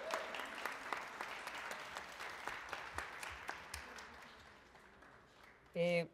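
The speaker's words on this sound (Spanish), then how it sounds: "un fuerte aplauso para nuestras magistrales ponentes de hoy" Audience applause after a speaker introduction at a talk on poetry, drawing and books, steady scattered clapping from a modest crowd fading out, followed by a voice starting to speak.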